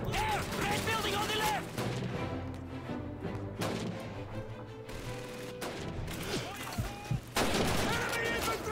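Wartime gunfire and battle clamor in a Call of Duty 2 combat scene, with an MG-42 machine gun in action and bursts of shots and crashes throughout, partly under a shouting voice.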